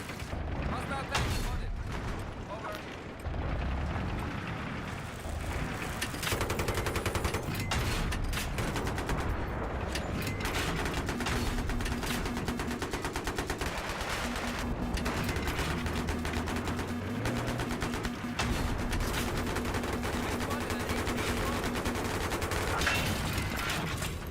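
Battlefield 3 combat with an enemy tank firing, heard as dense, continuous booms and bursts of gunfire that stay loud for the whole stretch. A player's voice talks underneath.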